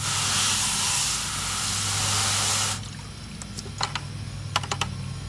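Steady broadband hiss of water spraying hard onto a scoop tilted on its edge beside a nearly empty bucket, loud and continuous for about half the time, then cutting off to quieter clicks and light knocks.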